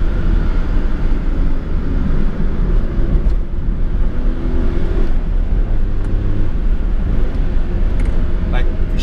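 A 1993 Honda Today Pochette drives along with steady, loud low road and engine rumble heard from inside the car, with no pauses.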